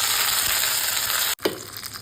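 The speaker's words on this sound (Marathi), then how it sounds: "तेल घातलं आहे, आता मोहरी घालून घेऊयात" Mustard seeds tempering in hot oil make a steady crackling sizzle, broken by a brief sharp gap and a soft clatter before the frying resumes.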